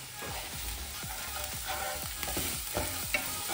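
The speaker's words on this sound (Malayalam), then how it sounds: "ഇളക്കിക്കൊണ്ടിരിക്കുന്നു" Quail egg stew with onion is stirred in a pan in a home kitchen, giving repeated soft scraping strokes about every half second over a quiet, steady sizzle, close by.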